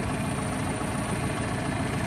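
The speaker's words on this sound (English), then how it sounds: "You don't have to turn the tractor off to take your hydraulics out" A tractor engine runs at a steady idle, a constant low rumble and drone with no changes in speed, with no voices over it.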